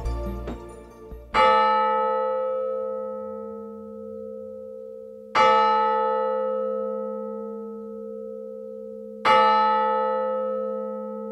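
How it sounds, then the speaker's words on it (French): A recorded church bell in G from Saint-Just cathedral in Narbonne, played back from a keyboard, strikes three times at even intervals, each clear bright toll ringing out with a long sustained hum before the next. "je suis allé enregistrer une cloche à la cathédrale Saint-Just de Narbonne"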